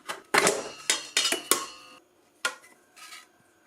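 The bowl of an ALDI Ambiano stand mixer is twisted off its base, a run of sharp clacks and rattling knocks of hard parts, loud and close, then a few fainter taps after a short pause.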